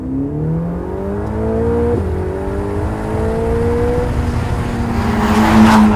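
A 3.9-litre twin-turbo V8 car accelerates hard in race mode, its engine note climbing steadily with a brief gear-change dip before rising again, loud and close throughout with no talking.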